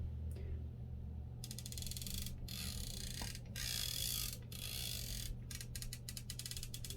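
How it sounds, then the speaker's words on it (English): Turret adjustment on a Vortex Strike Eagle riflescope gives rapid runs of crisp mechanical clicks in several quick bursts, heard close and quiet against a low background hum. "The clicks are extremely precise feeling"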